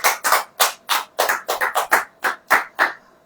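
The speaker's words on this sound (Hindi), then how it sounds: "ताली बजाओ।" A congregation at a Christian sermon service claps hands together in a quick, uneven rhythm, about a dozen sharp, close claps over three seconds with brief gaps between them.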